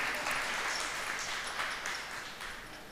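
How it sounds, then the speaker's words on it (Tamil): An audience claps at a humour club comedy event in Erode, a dense, continuous wash of applause that gradually tapers, with no clear voice on top. "இப்படி நான் சொன்னால் நீங்களா கை தட்டினா எங்களுக்கு கொஞ்சம் சந்தோஷமாக இருக்கும்."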